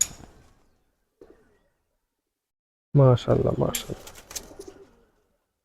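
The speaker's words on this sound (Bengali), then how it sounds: "ছোট সুন্দর একটা চোখের কবুতর" A pigeon coos once in a short, low burst near the microphone, surrounded by a person talking and long quiet gaps.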